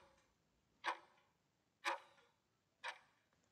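A quiz countdown timer ticks in three sharp, evenly spaced clicks about a second apart, isolated against near silence.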